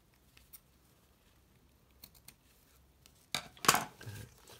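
Quiet rustling and small clicks, then a short burst of crisp snipping and shearing noise as scissors cut ribbon near the end, close by.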